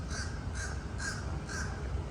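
A crow caws outdoors at a lakeside resort by a pool, four evenly spaced harsh calls, loud and fairly close over a steady background hum.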